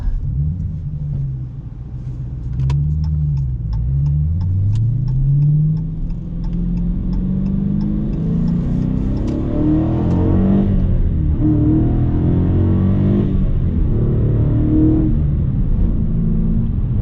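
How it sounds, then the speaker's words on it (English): A 2016 Dodge Challenger R/T Scatpack with a manual gearbox accelerates hard, its engine and exhaust rumbling loudly up through the revs with a gear change partway, heard close from inside the car. "Very nice exhaust sound. Not too loud and not too quiet either"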